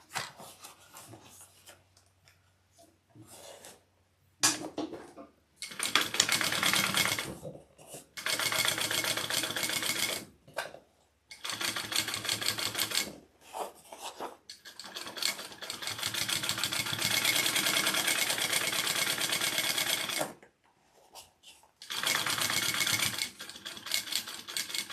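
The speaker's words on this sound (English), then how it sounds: "I want to do my second row stitching real quick." A sewing machine runs in bursts of several seconds while stitching a shoulder bag, with a fast steady whir during each run and short quiet pauses between them, fairly soft and close.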